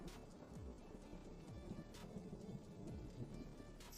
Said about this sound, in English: The rain just keeps falling.